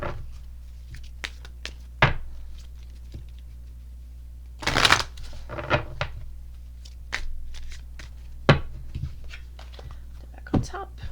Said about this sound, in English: I just had a card shoot out already while I started shuffling